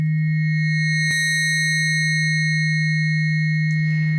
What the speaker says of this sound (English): the harmonics are really high in pitch, so you get that very cold type of sound